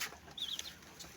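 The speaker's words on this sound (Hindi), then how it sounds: "प्यारा सा चूजा" A small chick gives a brief, high, thin chirp at a home where parrots and cockatiels are also kept, set against quiet background noise.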